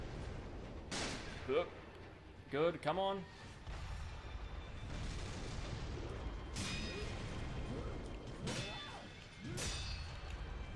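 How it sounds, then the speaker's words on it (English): Long spark firecrackers from the Sekiro video game pop and crackle in several sharp bursts over a busy game soundscape, with someone talking briefly between them. "use some firecrackers. Long spark firecrackers"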